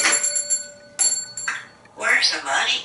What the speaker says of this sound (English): Bang the beak and ring the bell.